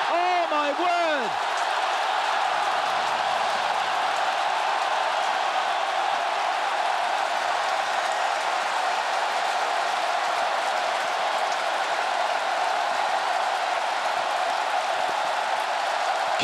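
At a football friendly between Kitchee and Manchester United, the stadium crowd roars loud and sustained after a goal. A whistle sounds at the very start, and then the dense crowd noise holds steady to the end.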